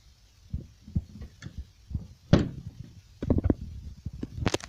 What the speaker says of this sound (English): As you can see, the cupboard just snaps tightly shut